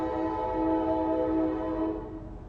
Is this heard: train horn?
yes